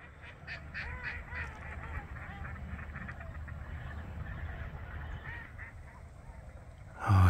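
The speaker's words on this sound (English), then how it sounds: "But you can see a whole bunch of birds, different kind of birds over there." Birds at the Bosque del Apache wildlife refuge in New Mexico, a dense, continuous chorus of quacking ducks and honking geese from a distant flock, steady throughout with a louder bump at the very end.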